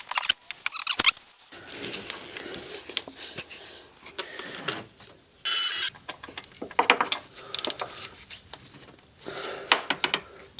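A ratchet clicks in quick bursts while tightening the valve cover bolts on an Audi S5 engine, with mechanical rattles, pauses and a few sharper knocks between runs, close and heard without talk.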